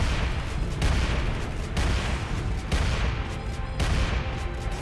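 Shotgun fire in the video game Dark Sector: four loud, booming blasts spaced roughly a second apart, each followed by a short rumbling decay.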